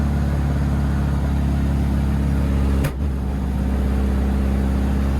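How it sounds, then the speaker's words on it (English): A Volkswagen race car driven by Larry Perkins at Bathurst drones steadily at high revs, then briefly dips and picks back up as it downshifts, loud and continuous without voices. "get a nice downshift there"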